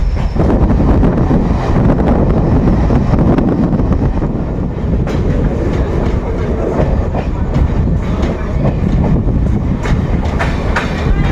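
A MEMU local passenger train running at speed between Bankura and Howrah, a loud continuous rumble with rhythmic clickety-clack of wheels on rails and wind noise throughout.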